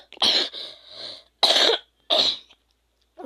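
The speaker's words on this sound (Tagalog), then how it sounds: "inuubo pa ako" A person coughs in three separate loud, close bursts spread over a few seconds, with short silences between them and no talking.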